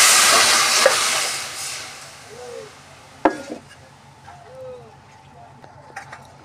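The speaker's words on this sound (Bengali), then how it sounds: "সেদ্ধ ডালটি এর মধ্যে ঢেলে দিই।" Boiled lentils poured into hot oil tempered with spices for sour dal with raw mango: a loud burst of hissing sizzle that fades over a couple of seconds, followed by a clack and quieter stirring noises.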